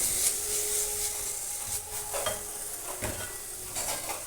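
Chopped onions stirred in a hot pan for a prawn roast, a steady sizzle broken by several close spatula scrapes and light metal clinks at irregular intervals, with no talking.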